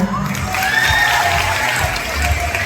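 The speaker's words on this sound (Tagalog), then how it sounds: "Paano ko ako gaganahan kung wala ho ang inyong palakpakan?" Crowd at a gay beauty pageant clapping with some cheers and shouts mixed in, loud and continuous, while a voice briefly calls out over it.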